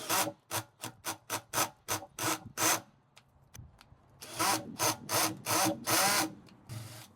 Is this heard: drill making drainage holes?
yes